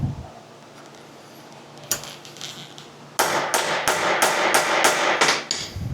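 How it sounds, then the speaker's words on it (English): A sheet metal hammer strikes chromoly steel on a Dakar prototype billet trailing arm. One sharp, ringing blow comes first, then a rapid series of about eight loud metallic strikes close by, with no talking. "that was a sheet metal hammer on chromoly"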